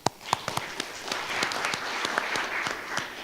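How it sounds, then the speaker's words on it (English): Audience applause at a school board meeting as a principal is introduced: steady clapping from a room of people with a few sharp, distinct claps standing out near the start, sustained for several seconds. "Give her a round of applause."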